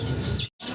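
Fancy tiger-coloured pigeons coo and chirp softly close by in a loft, a short low murmur with a faint higher tweet, broken by a brief silent gap.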